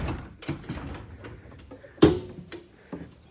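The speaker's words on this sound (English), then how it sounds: "Manual entrance door." A manual entrance door on a 2001 GMC Blue Bird school bus being worked by hand, a series of light mechanical clicks and taps leading to one sharp clack in the middle, then a few softer knocks, close and fairly quiet.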